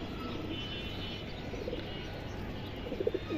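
A female pigeon coos softly a few times, mostly toward the end, over a steady background hum in a pigeon-selling setting.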